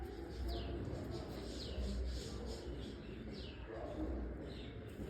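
A young racing pigeon that has flown three seasons gives low, soft coos in short repeated phrases, faint against a steady background hum.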